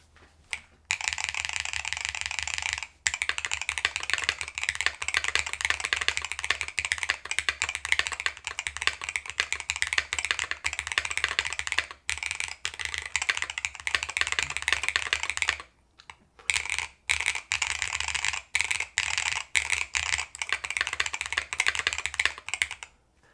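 Steady, fast typing on a NAJA 68 mechanical keyboard, a dense clatter of keystrokes with a few brief pauses, close and fairly loud, no voices.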